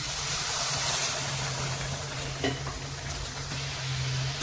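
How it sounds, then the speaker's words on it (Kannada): Sugar and water stirred in a pan to dissolve the sugar, a steady soft scraping and bubbling hiss with a low hum, a couple of faint clinks near the end. "ನೋಡಿ ಇದನ್ನ ತಿರುಗಿಸ್ತಾ ಹೋಗಬೇಕು ಇದು ಸಕ್ಕರೆ ಎಲ್ಲ ಕರಗಿ"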